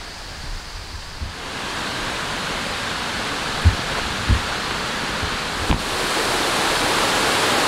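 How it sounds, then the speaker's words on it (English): Steady broadband roar of Scaleber Force waterfall in the Yorkshire Dales, a continuous rushing wash of falling water with a few faint low knocks, no voices. "that's Scaleber Force waterfall"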